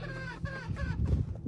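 Chickens cluck inside a coop in short, repeated calls, close by, over a steady low background.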